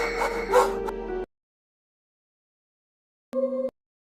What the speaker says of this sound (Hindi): फिर भौंकने की आवाज़